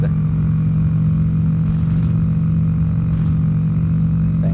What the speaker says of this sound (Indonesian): Ini motor bisa nyebrang lautan guys.